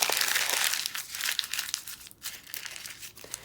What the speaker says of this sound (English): I'm just going to go ahead and crumple this up into a tiny little ball